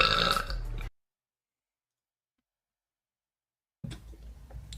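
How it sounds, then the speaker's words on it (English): Two bursts of burping, each under a second, split by about three seconds of silence, loud and close. "These are all just stupid burps."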